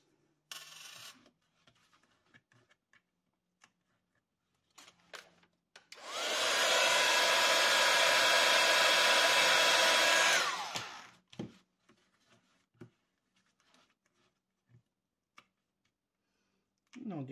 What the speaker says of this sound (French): même avec le heat gun, j'ai quand même du mal à l'enlever